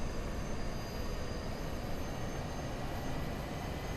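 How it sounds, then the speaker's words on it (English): Aircraft auxiliary power unit spooling up in Microsoft Flight Simulator 2020, a steady broadband whine and rumble holding at an even level throughout, with no voices over it. "let's go ahead and turn off the music so we can hear the APU starting up"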